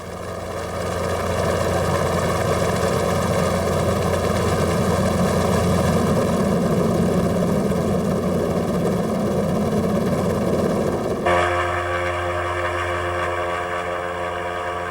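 An airship's engines drone loudly and steadily in flight, a constant propeller hum with a sharp shift in tone near the end.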